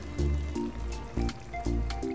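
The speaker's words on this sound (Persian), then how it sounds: "1/2 فنجون آب اضافه میکنیم." Water splashes and gurgles as it pours into a pot of creamy chicken, a continuous liquid rush with a few brief bumps and clinks along the way.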